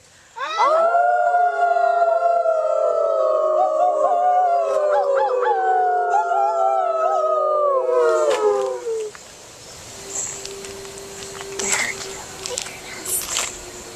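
Several people howl together in layered, wavering rising and falling tones for about eight seconds, imitating wolves, followed by quieter scattered noises and faint voices.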